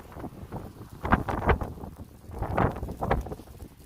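Strong wind gusting outdoors at a camp, rising and falling in several loud rumbling bursts against the microphone, with no voices.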